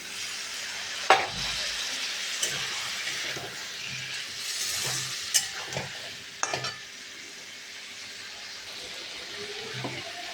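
Green banana pieces are sautéed in a pan with a splash of water for a banana and fish curry. There is steady sizzling and bubbling, with a few sharp clanks of a spoon stirring against the pan. No one speaks.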